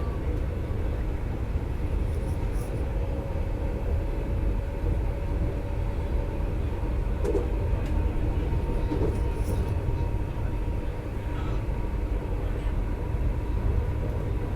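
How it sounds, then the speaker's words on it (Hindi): The Kolkata–Jammu Tawi express train runs past a station, a loud, continuous rumbling roar of wheels and carriages lasting throughout, with faint rhythmic clatter and no clear talking. "आगे अपनी कोलकाता जम्मू तवी जो है वो चल रही है"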